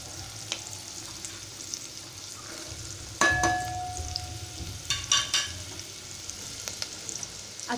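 Onion frying in a pan for Malvani chicken rassa, a steady soft sizzle with scattered clinks and scrapes of a stirring spoon, close by and without talk.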